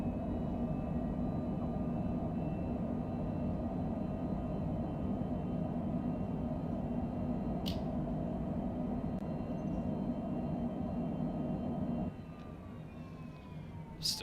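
An airliner's thrust reversers roar with a loud, steady engine rumble during a Microsoft Flight Simulator landing, the noise holding constant and then dropping somewhat near the end, with no voices.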